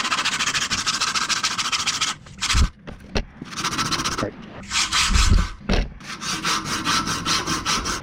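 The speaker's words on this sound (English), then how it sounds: "now it is time to start sanding along the chamfer lines and across the top right here." Rhythmic back-and-forth rasping of sandpaper along the chamfer lines of a large wooden musky lure, steady strokes with a brief pause and a few knocks midway, close and fairly loud.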